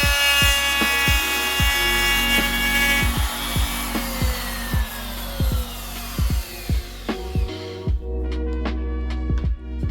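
A router fitted with a larger bit cuts deeper into wood along a template while fitting a battery box into a double-neck bass body. The machine whines steadily and loudly, broken by repeated short bursts as the bit bites.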